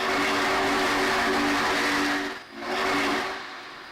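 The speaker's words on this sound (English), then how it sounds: "There's the whistle." Steam locomotive whistle from a train video game, a loud sustained tonal blast over steady engine noise, briefly dipping midway before sounding again, with no talk.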